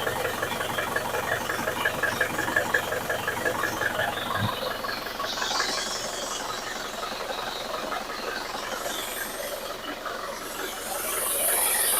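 A 2013 Isuzu Panther Grand Touring diesel engine idles with its oil filler cap removed, a steady rhythmic clatter with a faint hiss, heard close and continuous without any talking.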